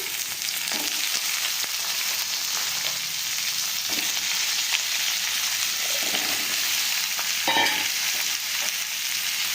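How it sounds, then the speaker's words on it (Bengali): Potato, eggplant and other vegetables fry in a little oil in a wok, giving a steady, close sizzle broken by a few soft stirring scrapes, with no talk. "এই সবজিগুলোকে দিয়ে এবার আমরা খুব ভালো করে ভাজা করে দিচ্ছি।"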